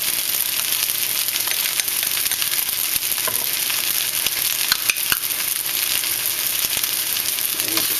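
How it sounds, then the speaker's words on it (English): Chicken fried rice with bean sprouts and scallion is stirred in a hot pan, giving a steady, close crackling sizzle with faint scraping and occasional utensil clicks. "And you just mix it up."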